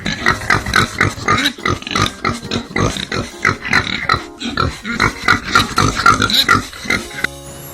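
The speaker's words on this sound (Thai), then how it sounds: "เด็กๆไปฟังเสียงหมูกันเลยนะคะ" Pig oinking and grunting, a rapid series of loud, close snorts and grunts in an irregular rhythm that continues for several seconds.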